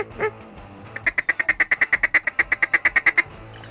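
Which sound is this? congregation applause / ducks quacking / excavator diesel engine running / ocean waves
ducks quacking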